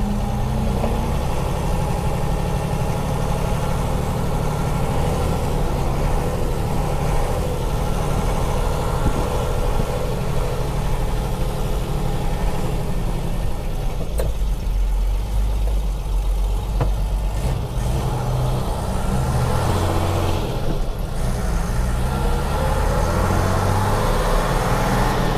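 A Mercedes Unimog FLU419 SEE tractor's engine runs steadily on steep hills, a loud, continuous low rumble with mid-range drone that holds throughout, slightly shifting in load near the middle.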